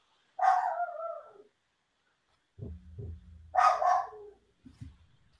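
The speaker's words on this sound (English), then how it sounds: "She sees that UPS truck pull up and she just loses her shit." A dog barks excitedly indoors at a UPS delivery truck pulling up, giving two loud bursts of barking separated by short gaps, close by with no talking.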